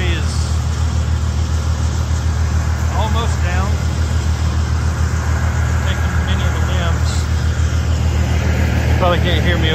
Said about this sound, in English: can't hear me over that grinder